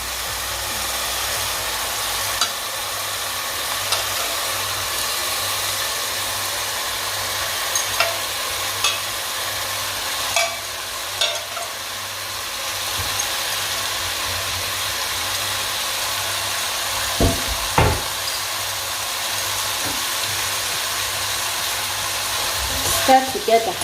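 Vegetables sizzle and fry in a pan for a savoury vegetable pie, a steady moderate hiss broken by occasional scrapes and knocks of stirring.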